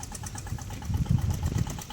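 A tractor engine idles and runs steadily in a peanut field, a continuous low throbbing rumble with a slightly knocking, pulsing quality that swells a little louder midway through.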